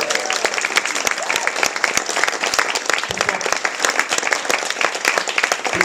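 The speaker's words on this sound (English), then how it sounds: "let's put a round of applause." An audience at a book reading applauds, a dense, sustained round of clapping from a room of people that stays steady and fairly loud throughout.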